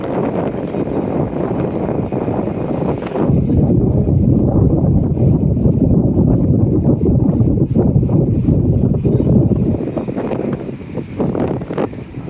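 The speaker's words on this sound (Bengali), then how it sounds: "এই যে অনেক বাতাস হচ্ছে কিন্তু" Strong wind buffets the microphone in Doha near the sea, a loud, low, rumbling roar that swells sharply partway through and stays heavy before easing slightly, with no voices.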